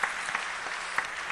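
Congregation applauding in a church after a member is formally welcomed, a steady wash of many hands clapping with a few sharper claps standing out, fairly loud and without talk.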